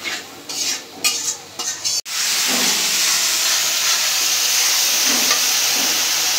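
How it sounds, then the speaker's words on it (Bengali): Ginger-garlic paste and spices go into a hot pan: a few spoon scrapes, then a sharp burst into loud continuous hissing sizzle that holds steady with faint stirring beneath. "আদা রসুন বাটা, মশলাটা কষায় নেব।"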